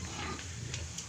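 Native pigs being sold for lechon grunt and snort close by, rough low vocal noises over faint background bustle.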